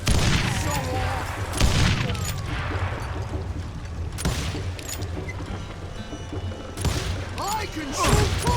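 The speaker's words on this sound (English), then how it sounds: "Да ё-моё, динамитом накидали." Dynamite blasts and gunshots in the Wild West shooter Call of Juarez Gunslinger, repeated heavy booms and sharp reports scattered through dense game noise, with voices talking over the action.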